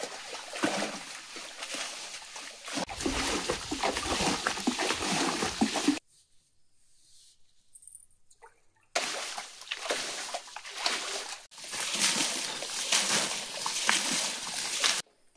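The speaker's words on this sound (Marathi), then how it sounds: "तर मामा लागलं खड्ड्यातलं पाणी काढायला" Water is bailed out of a hillside pit to catch crabs, with repeated splashes and sloshing scoops in long noisy stretches, broken by a short near-silent pause midway.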